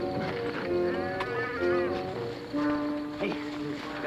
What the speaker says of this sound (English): You hear that calf bawling?